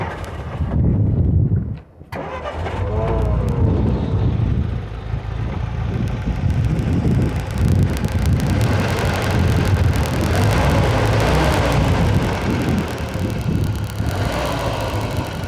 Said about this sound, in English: Runs real good with the new carburetor.